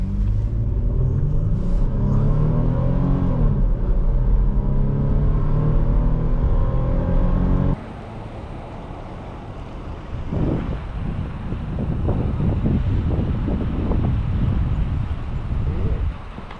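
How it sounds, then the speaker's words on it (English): A 2005 Toyota Highlander V6 with four-wheel drive is under way, its engine droning loudly with a rising rev pattern before the tone changes midway to a rougher rumble of road and wind noise, heard from inside the cabin. "Today we are driving a 2005 Toyota Highlander V6."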